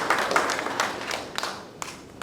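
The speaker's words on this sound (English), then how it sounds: "Let's put our hands together to give them a round of applause." A few people at a Chinese community festival gathering clap in a thin, uneven round, with individual claps audible and the sound thinning out toward the end.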